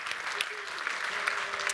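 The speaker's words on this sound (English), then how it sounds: "Give a big round of applause for our audio crew." Conference audience applauding the audio crew, a short, steady wash of many hands clapping at close range with a few sharper individual claps standing out.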